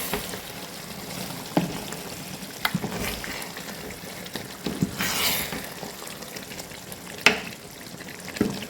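Cassava leaves stew cooking in oil in a pot, with a steady soft sizzle and bubbling broken by a few sharp clanks and scrapes of stirring, fairly close and with no talking.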